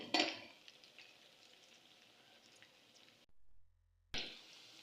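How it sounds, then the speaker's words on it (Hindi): Chopped onions frying in half a cup of oil for a chicken and turnip curry, a low steady sizzle with a couple of louder scraping stirs at the start and end and a short break of silence, with no talking. "हाफ कप मैंने यहाँ पर ऑयल ऐड किया है और इसे थोड़ा सा ब्राउन होने तक मैं फ्राई करूँगी अच्छी तरह से।"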